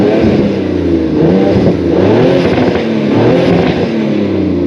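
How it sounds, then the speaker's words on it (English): An ABT-tuned 530 hp Audi RS4-R revs hard in dynamic mode with its exhaust valves open, a loud, close engine roar that swells and falls in repeated pulses, with no talking. "Mostly engine sound with a little bit of a muted exhaust sound, and then dynamic opens the valves."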